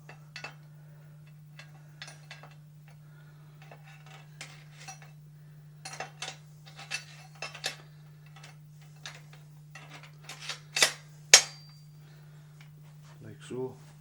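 Metal parts of a Beretta Outlander A300 shotgun clicking and clinking as the barrel is fitted back on, a scattered series of light taps and scrapes building to two sharper clacks, close up over a steady hum.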